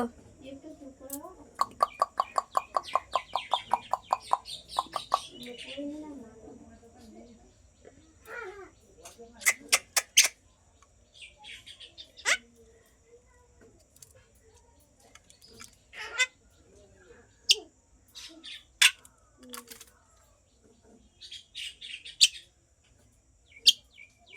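A pet talking bird chirps and calls in bursts of rapid repeated notes and sharp whistles, close and clear, with people talking between its calls.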